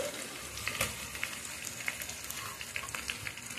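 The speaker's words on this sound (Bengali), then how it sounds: "এখন দিয়ে দেব পেঁয়াজ কুচি, দিয়ে দেব রসুন" Chopped onion and crushed garlic sizzle softly in a hot pan while a taro-leaf and hilsa-head dish is cooked, a quiet, steady frying crackle with small pops scattered through.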